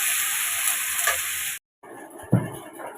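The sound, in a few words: vegetables frying with salt and turmeric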